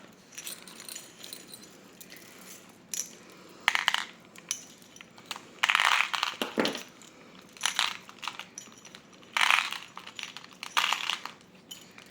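Small beads sliding off a strand and spilling: bursts of bright clattering and rattling come in irregular clusters with quiet gaps between them, close and fairly loud, no talk.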